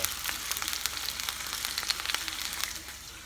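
Sirloin steak fries in a very hot pan beside broccoli spears, a close, crackling sizzle with rapid popping spatters throughout, steady and without talk.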